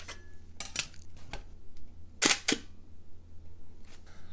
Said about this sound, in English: You need to remove that dark slide in order to take a picture.